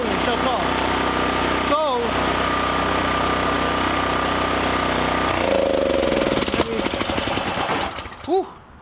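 A generator engine that keeps stalling runs with a rough, rapid, hammering clatter, then sputters and loses speed, giving off a string of sharp pops and backfires before cutting out, with a short voice near the end.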